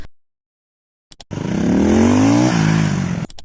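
A motorcycle on a moto gymkhana course in Japan, heard after a moment of silence as a loud, close engine that revs up in a rising whine, briefly drops pitch, and holds a steady roar before easing off.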